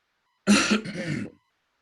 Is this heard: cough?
yes